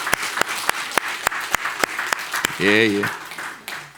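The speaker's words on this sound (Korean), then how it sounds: "박수 한번 확실하게 치시죠" A church congregation claps during a Sunday morning service, a rhythm of sharp, fairly close claps running under a pastor's brief spoken affirmations.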